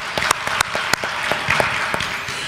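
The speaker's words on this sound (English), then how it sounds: "round of applause there" Applause from a church congregation at a family meeting: scattered, fairly sparse claps over a steady crowd patter for a few seconds, moderately loud and close.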